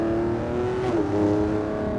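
A 2025 Lamborghini Revuelto engine held at high revs on a canyon drive, a loud, steady, sustained howl with a brief dip in pitch midway before climbing again, continuous and close with no talking.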